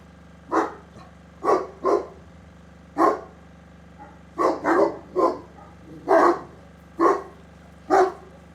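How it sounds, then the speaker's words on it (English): A dog barks repeatedly in short bursts, single and double barks spaced about a second apart, fairly close, with no talking. "I met some playful dogs there"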